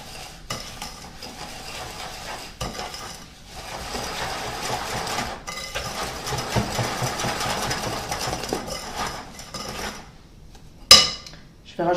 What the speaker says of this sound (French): Allez, on va mélanger tout ça au fouet.